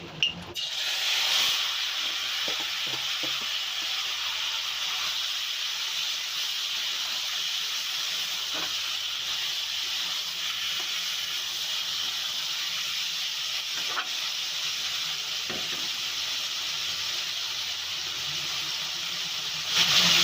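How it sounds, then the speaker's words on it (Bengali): Marinated chanda fish frying in hot oil in a kadai, a broad steady hiss and sizzle running throughout, with occasional faint pops and clinks, fairly quiet and close. "যে মাছটা মাখিয়ে রেখেছিলাম ওই মাছটা তেলের মধ্যে দিয়ে দেবো।"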